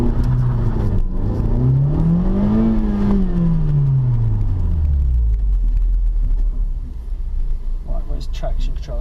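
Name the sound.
2016 FK2 Honda Civic Type R launch acceleration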